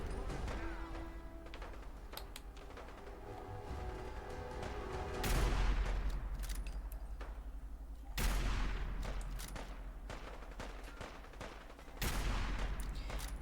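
Gunfire in Fallout 4 arrives in several loud, sudden bursts separated by quieter stretches of game ambience, each blast sharp and reverberant at close range.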